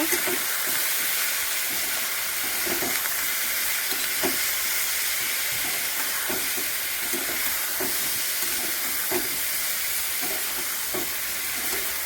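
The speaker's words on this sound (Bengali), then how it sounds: "এটা একটু ভালো করে লাল লাল করে ভাজবো বেগুনগুলো" Eggplant pieces seasoned with salt and turmeric fry in a pan for a singhi fish curry, making a steady, dense sizzle broken by the faint clicks of occasional stirring, with no speech.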